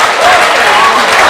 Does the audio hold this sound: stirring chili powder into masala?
no